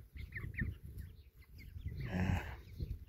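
Chickens cluck and cackle in short repeated bursts while feeding outdoors, with a low rumble of background noise beneath the birds.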